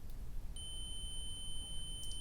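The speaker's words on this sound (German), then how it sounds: "es piepst und zeigt eine ganz kleine Zahl an" A thin, steady electronic beep from a multimeter continuity test on a cable starts and holds continuously, quiet and close, over faint background hiss.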